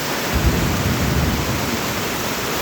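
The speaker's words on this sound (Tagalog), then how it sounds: "Ganyan katindi ang ulan dito sa Solano." Heavy rain roars steadily with a deep low rumble of thunder underneath, constant and loud throughout with no voices.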